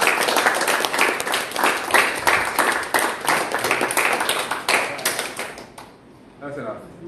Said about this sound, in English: we, the leaders, want to applaud you guys